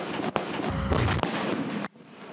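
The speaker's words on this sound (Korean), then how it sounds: "지축이 흔들리는 굉음과 함께 장사거리 포탄이 힘차게 날아갑니다" Long-range artillery guns fire together in a simultaneous-impact barrage during a large South Korean live-fire exercise, a sustained thunderous roar with sharp blasts near the start and middle that cuts off abruptly, then a duller rumble.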